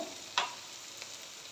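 Spice paste frying in hot oil in a pan, a soft steady sizzle with a brief scrape or stir near the start, quiet and close.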